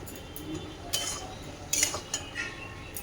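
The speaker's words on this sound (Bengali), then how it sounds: "এই যে ডাঁটাগুলো বেশ ঘেঁটে ঘেঁটে দিচ্ছি" A utensil stirs taro stalks in a metal cooking pot, giving a few soft scrapes and sharper clinks against the pot, spaced irregularly and close by, with no talk.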